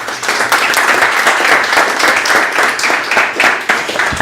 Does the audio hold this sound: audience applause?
yes